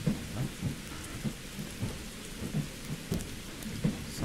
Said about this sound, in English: Watching the storm rage from here.